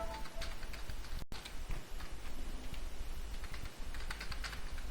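Fingers type C++ code on a computer keyboard in quick, uneven bursts of clicking keys, with one short pause midway, fairly close and moderately quiet.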